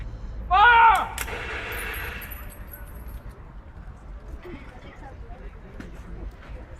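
A firing squad's rifle volley in a reenactment of executions at Kilmainham Gaol, a single sharp loud crack after a shouted command, followed by a ringing tail and a low murmur of voices.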